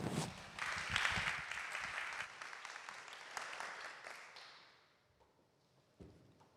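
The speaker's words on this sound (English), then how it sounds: "Ladies and gentlemen, let's give a round of applause to them." Audience applause at a startup demo day, a moderately faint round of clapping that peaks early, thins out and fades into near quiet, followed by a single soft thump.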